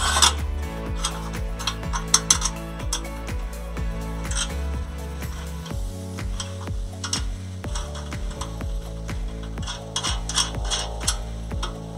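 Square metal profiles take solar panel mounting brackets as screws are driven in, giving repeated ratcheting clicks and gear-like whirring turns, with a brief low rattling burst in the middle, close up and with no talking.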